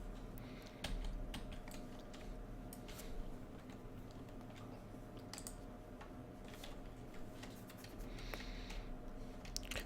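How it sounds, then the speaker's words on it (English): A cat steps across a computer keyboard, producing faint scattered key clicks and taps in an irregular pattern over quiet room tone, with no talking. "You're stepping on my keys."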